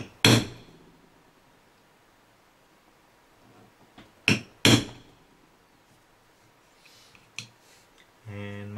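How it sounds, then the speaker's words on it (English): A hammer strikes a center punch on a part of a faulty La Gard 3330 lock from a Fichet Venus safe: four sharp metallic whacks, the middle two close together, separated by quiet pauses. "Now let's give it a couple of good whacks with the center punch just to try and open things out a little bit."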